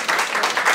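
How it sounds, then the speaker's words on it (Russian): A short burst of audience applause at a birthday gathering, dense clapping pulsing in a few swells over under a second. "Аплодисменты"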